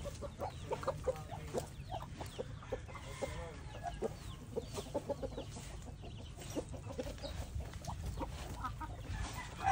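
Black-skinned hens cluck and murmur continuously at close range, a steady scattered chatter of several birds with no talking.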